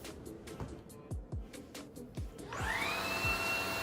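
A Maircle S3-Pro cordless stick vacuum with an electric floor brush switches on after some handling knocks, its brushless motor spinning up into a steady high whine that carries on close by.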